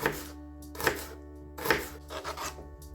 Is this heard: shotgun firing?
no